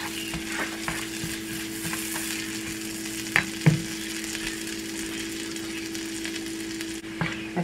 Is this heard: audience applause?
no